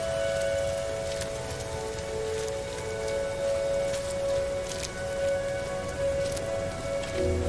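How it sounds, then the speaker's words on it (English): Steady rain patters on surfaces in the No Man's Sky game world, a continuous soft hiss with scattered drop impacts, alongside a faint sustained tonal hum from the game's ambience. "I hear rain. I never heard that before."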